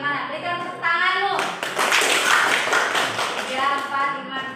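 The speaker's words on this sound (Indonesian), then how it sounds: "Kelompok pertama tadi, kelompoknya ini Fatun dan Rahel. Kira-kira menurut kalian tampilannya bagaimana? Berikan tepuk tanganmu." A classroom of students applauds a student group for about three seconds, a dense burst of clapping framed by a teacher's voice speaking before and after.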